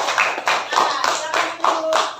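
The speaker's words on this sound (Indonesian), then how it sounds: "tepuk tangan untuk kelompok 5" Students in a sixth-grade classroom clap for a presenting group, a short patterned burst of hand claps in rhythmic clusters, fairly close and moderately loud.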